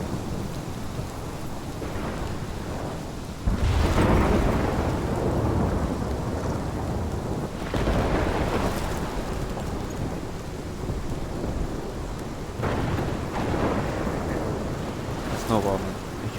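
A thunderstorm with steady heavy rain in the video game Life is Strange, with several loud rolling thunder bursts breaking through the constant downpour, no speech over it.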